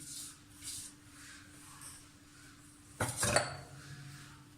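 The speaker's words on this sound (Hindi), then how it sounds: "ये जो हमने बैटर बनाया है इसको पूरा इसमें डाल देंगे और हल्के हाथों से सिर्फ मिक्स करेंगे" Cake batter being gently mixed in a pan, quiet scraping and tapping of a utensil against metal, with a louder clatter near the end.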